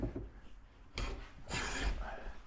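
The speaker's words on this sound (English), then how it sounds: "Again, planing with the grain." A hand plane shaves along a wooden board with the grain, two quiet rasping strokes a moment apart, close and dry with short pauses between.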